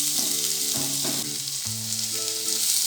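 Onions for a South Indian style chicken curry fry in a pan with a steady, loud, close hiss. Soft tonal sounds shift underneath it. No one speaks.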